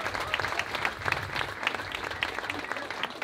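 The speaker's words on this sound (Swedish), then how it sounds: "jag tycker att den förra akten förtjänar en applåd till." Steady applause from a concert audience at an ensemble performance fills the hall, dense and continuous, with no voices over it.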